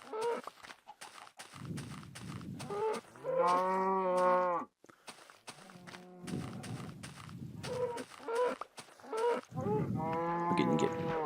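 Cows in Minecraft moo repeatedly, several long drawn-out calls separated by brief pauses, mixed with rapid clicking hoofbeat-like footsteps, loud and close with no talking.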